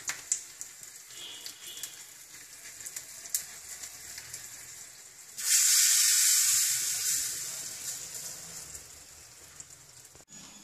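Hot tempering of cumin and curry leaves poured into radish and sundakkai sambar, giving a sudden loud sizzle and hiss that swells and then fades.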